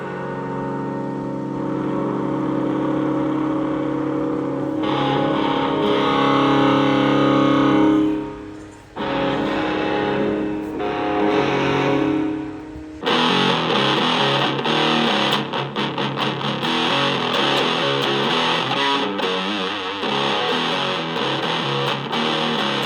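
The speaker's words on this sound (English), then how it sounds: "That much distortion out of a little amplifier." Electric guitar played through a small Melonare MA 1 portable amplifier set to overdrive, giving heavily distorted, buzzing chords and sustained notes, with a brief dip before a louder, brighter crunchy passage that continues to the end.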